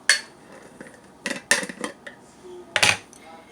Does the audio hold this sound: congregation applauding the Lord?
no